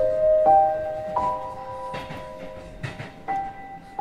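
A subway train running in a horror video game, steady rumbling with sustained tonal squeals and a few sharp clacks and bumps, fairly loud and continuous.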